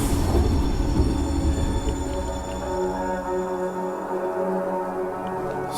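A train rolling along in the Choo Choo Charles video game, giving a steady, loud rumbling drone with low mechanical clatter and faint high whining tones throughout.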